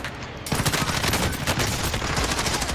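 Rapid automatic gunfire in a battle royale video game, a dense burst of loud repeated shots that starts abruptly and continues without pause.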